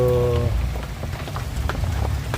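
Rain falling at an evening tricycle queue during a typhoon, a steady close patter and hiss of drops, with a short tonal hum at the start and scattered knocks.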